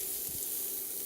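Finely chopped shallots sizzle in a hot pan, a steady close frying hiss with a soft low thump near the start and no talking.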